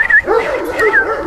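Turkish shepherd dog on a farm giving short, loud yipping and whining barks close by, several quick cries within a second.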